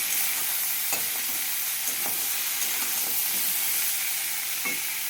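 Crab cooking in a pan gets stirred, a constant close sizzle under a few distinct scraping knocks of the spoon spaced over several seconds.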